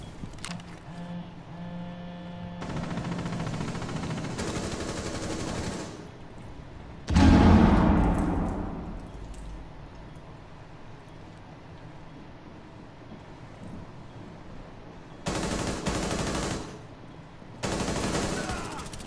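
Video game gunfire rattles in rapid bursts, with a loud blast near the middle and further volleys toward the end, mixed with other game noise and players talking.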